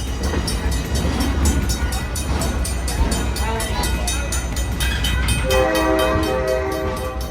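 A 100-year-old historic train runs through Old Town Sacramento, its steady rolling rumble and rhythmic clatter close by, with a sustained horn sounding near the end and voices faintly mixed in.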